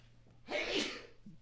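One sharp human sneeze, close and loud, bursting out suddenly and fading within a second over a quiet room.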